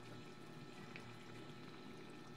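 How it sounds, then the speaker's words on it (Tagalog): Water bubbling and simmering in a cooking pot while eel is boiled to remove its slime and fishy smell, a steady low churning throughout with a brief sharper splash near the end. "at pakuluan ng tubig"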